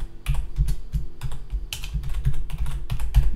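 Rapid, steady keystrokes on a computer keyboard while code is typed, close and fairly loud, with clustered bursts of clicks and a low hum underneath, no voices.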